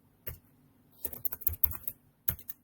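Fingers tap a computer keyboard: a single keystroke, then a quick irregular run of clicks, then one more after a pause, crisp and close in an otherwise quiet room.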